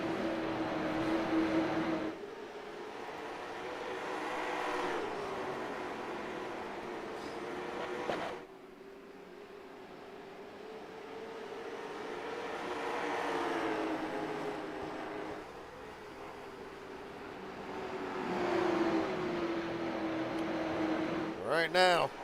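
Stock race cars roar around the North Wilkesboro oval, a loud sustained engine drone that rises and falls as the pack sweeps past in waves, with commentary spoken over it.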